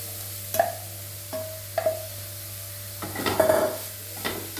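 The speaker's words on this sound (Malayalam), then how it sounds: "ഇനി നമുക്ക് അരിഞ്ഞു വെച്ചിരിക്കുന്ന ബീട്രൂട്ട് ഇതിലേക്ക് ചേർക്കാം." Chopped beetroot goes into a pan and is stirred: a spoon clinks and scrapes against the metal several times at uneven intervals over a soft sizzle and low steady hum.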